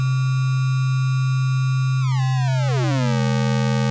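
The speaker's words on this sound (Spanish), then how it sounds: "Muy característico, que suena de baja calidad, por eso es low-fi o bit crush" A synthetic tone run through lo-fi bit-crush distortion, sounding as a loud, steady, buzzy digital drone whose gritty upper tones sweep and bend downward partway through before settling into a lower harsh hum.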